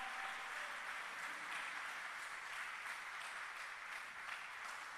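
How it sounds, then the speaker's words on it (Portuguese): A church congregation applauds, a continuous dense wash of many hands clapping at once, steady and distant-sounding throughout, with no voices rising above it. "Você pode aplaudir a Jesus? Aplauda o Senhor bem forte."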